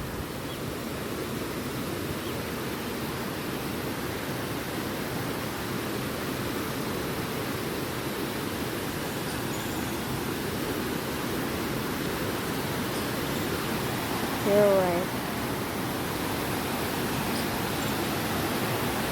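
Loud, continuous roar of rushing water at a ghat in Bilganga, broad and steady throughout, with no voices.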